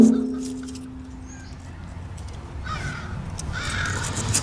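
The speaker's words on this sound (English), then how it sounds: "the crows are making funny noises today." Crows cawing outdoors near a Ford 800 tractor, a few distant harsh calls in the second half over faint background rustle.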